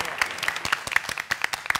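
A television game show studio audience applauding, a brief burst of many sharp, irregular claps at close range, fairly loud and continuous throughout.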